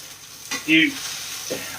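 Vegetables frying in leftover oil in a pan while making cashew chicken, a soft steady sizzle with a brief louder hiss and a light clatter of stirring, no talking.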